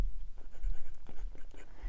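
Extra fine nib fountain pen writing on paper, a soft scratchy scribble of short strokes running steadily for about two seconds, close and quiet with no talking.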